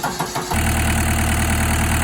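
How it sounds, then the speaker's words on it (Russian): A Liebherr diesel engine with a fuel-injector fault cranks briefly, then catches and settles into a loud, steady idle with a deep, continuous throb that runs without pause to the end. "Запустился наш двигатель"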